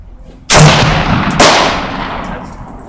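Two loud, sharp gunshots crack at an outdoor shooting range, a little under a second apart, each followed by a long rolling echo that fades into open air.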